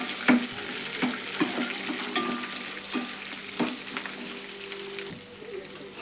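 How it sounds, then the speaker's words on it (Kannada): Curry leaves frying in hot oil for a potato palya, a soft continuous sizzle broken by light stirring clicks and clanks of a spoon against the pan. "ಇದನ್ನ ಫ್ರೈ ಮಾಡೋಣ್ರಿ ಎಣ್ಣೆ ಒಳಗೆ."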